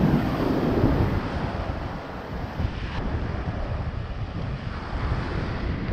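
Surf washes steadily onto a small beach at Paradise Beach, Baigad Lagoon, on Bantayan Island in Cebu, Philippines, a continuous roar with wind buffeting the microphone.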